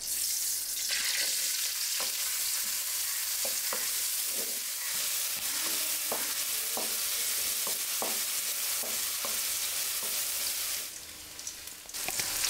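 Frying in leftover fish-frying oil in a large wok: a continuous crackling sizzle with scattered clicks and scrapes from stirring, steady and moderately loud, dropping off near the end.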